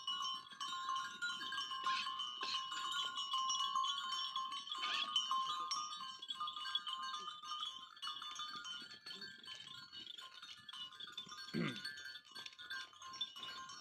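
Barbari goats on a goat farm, with steady continuous animal calls and farmyard noise throughout, including a brief louder call near the end; no talk is heard.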